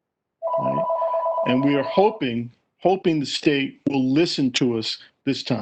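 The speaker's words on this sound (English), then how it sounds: "that's my phone ringing in the background" A telephone rings with a steady, continuous tone in the background for about two seconds as someone speaks at a public meeting on state climate policy, and her talk then carries on over it.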